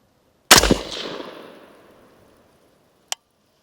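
A single loud, sharp rifle shot fired during a test of a Discoveryopt ED AR 1-8x24 SFIR FFP scope, with a decaying echo. A faint click follows about two and a half seconds later, and no one speaks.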